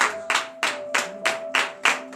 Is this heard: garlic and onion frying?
no